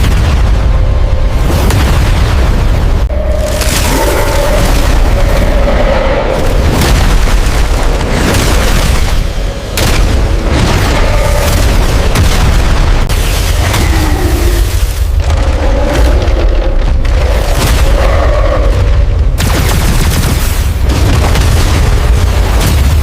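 A cosmic explosion in an animated Pokémon battle: a long series of loud, heavy booms and blasts, one after another, dense and dramatic with brief dips between hits, and no talk.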